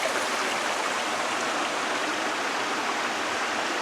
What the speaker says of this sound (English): Here's the little creek.